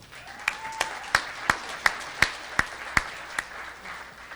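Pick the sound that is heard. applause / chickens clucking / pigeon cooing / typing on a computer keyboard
applause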